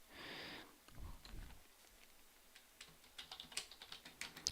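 Typing on a computer keyboard while entering code for a PIC18F4550 I/O demo board, heard as a scatter of light, quiet key clicks that grow busier and firmer toward the end, with no talking.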